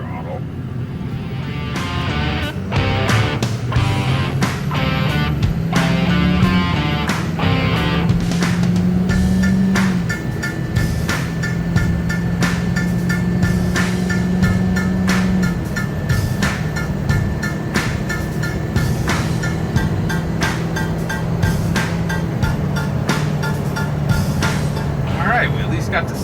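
A Ford 6.0 Powerstroke diesel pickup with a Power Hungry FICM tuner accelerates from 0 to 60 at half throttle, engine drone rising in pitch through gear changes with steady road noise and ticking clicks in the cab.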